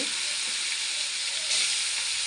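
Leta fish sizzling steadily in hot oil in a pan for a curry, a dense, continuous close frying hiss that swells briefly near the end, with no voices.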